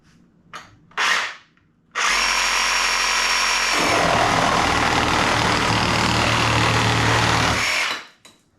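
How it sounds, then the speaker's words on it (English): A DeWalt reciprocating saw cuts after a few brief test bursts. Its motor then runs loud and steady for about six seconds, shifts to a deeper load partway through, and winds down at the end. "Now we'll do the Dewalt."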